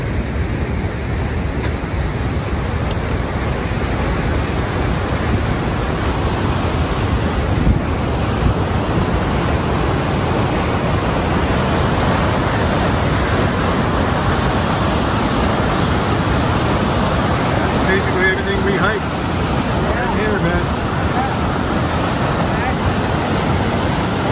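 Loud, constant roar of rushing water at Nevada Falls in Yosemite, broadband and unbroken, mixed with gusty wind buffeting the microphone throughout.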